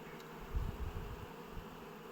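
Young honey bees on a hive frame during colony merging, a low steady buzzing hum close by and quiet, with no voices.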